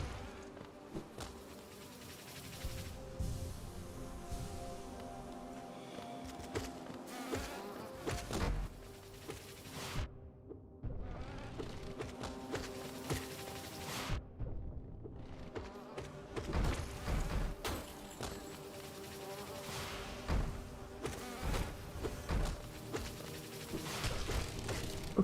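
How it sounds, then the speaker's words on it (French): Large bees buzz steadily in the Hollow Knight video game, a continuous insect drone layered with game sounds and a few brief dropouts, with no talking. "On a un truc très dangereux, qui sont ces grosses abeilles."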